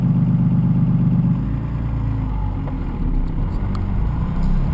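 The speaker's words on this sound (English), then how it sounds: "It's just incredible how awesome this exhaust brake is, though." Cummins 6.2 liter diesel engine with the exhaust brake engaged while driving, a loud steady low roar with a deep droning rumble that eases slightly, then holds.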